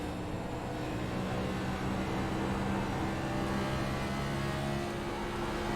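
Next Gen race car engine in the iRacing simulator, a steady, continuous drone with a faint, even hum and no revving peaks, heard alone.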